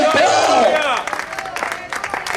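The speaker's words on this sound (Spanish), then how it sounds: "Dale el aplauso." Church congregation breaks into applause and cheering during a sermon, a loud crowd burst that fades within about a second, with voices shouting over it.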